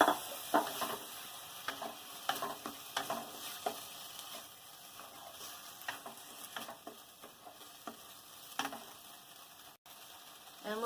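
Shrimp marinated in spices goes into a frying masala, bringing a soft, steady sizzle broken by repeated scraping stirs. The sound is fairly quiet and no one speaks.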